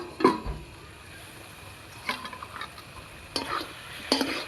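Spice paste with potatoes is stirred in a pan for a fish curry, with a few separate scraping, sizzling stirs spaced over a quieter background hiss.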